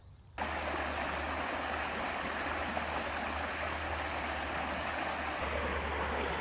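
A river flows steadily through a forest, a dense, broadband rush of moving water that sets in abruptly and then holds constant and fairly loud with no voices over it.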